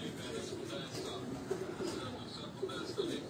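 A chapri-breed pigeon coos in soft, low repeated murmurs, faint and steady, beneath a voice talking close by.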